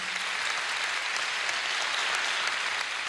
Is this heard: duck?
no